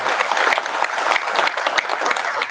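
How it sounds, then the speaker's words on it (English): A conference audience at the UCFIC 2025 fatherhood gathering claps steadily together, a dense, even round of applause that stays loud from start to finish with no talking over it. "let's have a big round of applause for"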